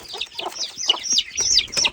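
Chickens kept indoors in a room at night cluck in quick, overlapping bursts, close by and fairly loud.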